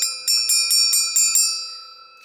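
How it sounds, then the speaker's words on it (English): A small bell used as a dinner bell is struck about six times in quick, even succession, each bright ringing strike layering over the last before the tone slowly fades out, close and clear with no talking. "you could use it as a dinner bell"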